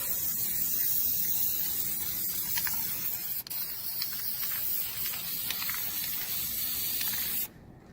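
An aerosol can of spray paint hisses steadily in a long, even burst at close range, cutting off abruptly near the end into silence.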